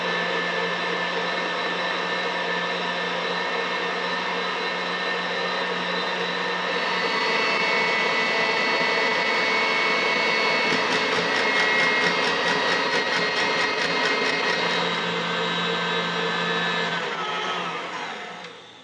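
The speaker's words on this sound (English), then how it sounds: "I'm going to use the wire whisk attachment for egg whites. This is going to take, it's going to be noisy" Electric stand mixer fitted with a wire whisk beating warmed egg whites into meringue on high speed, a loud, steady motorized whir with rattling, running continuously for nearly the whole stretch before winding down at the end.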